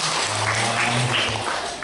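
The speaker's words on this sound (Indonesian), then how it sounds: "Kok tepuk tangannya kok sepi, tepuk tangan." Audience applause at a teachers' positive-culture dissemination session in Indonesia, continuous clapping from a modest group with a low hum underneath, steady throughout.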